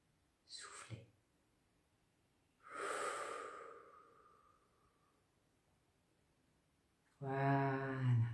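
During face yoga, a person takes a quick audible inhale and then lets out a long, soft exhale through the mouth, followed by someone speaking French.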